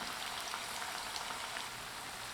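Ragi onion pakoda frying in hot oil, a steady crackling sizzle that stays even and close throughout, with no voices.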